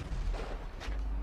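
A sniper rifle shot in the video game GTA V, a short, heavy boom with a rumbling tail, loud and close over steady game background noise.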